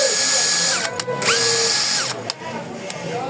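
A brushless cordless 20-volt screwdriver whirs in short high-pitched bursts, spinning up, running briefly and stopping several times in close, loud succession.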